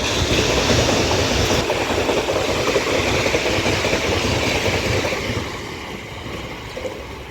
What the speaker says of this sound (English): This is passing through on the fast lines